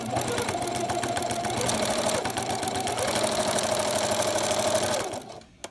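A sewing machine stitching quilt binding through three layers, running in a fast, steady mechanical chatter for about five seconds at close range before slowing to a stop.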